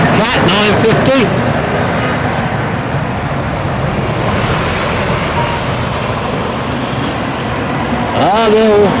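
Heavy trucks rumble past on the road at Lymm motorway services in October 2020, a loud, continuous roar of engines and tyres that swells and holds throughout, with a sharper passing vehicle at the start and end.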